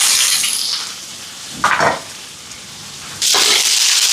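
Soft sizzling of curry leaves, shallots, garlic and green chillies sautéing in a pan, swelling in two louder bursts as it is stirred, no talking.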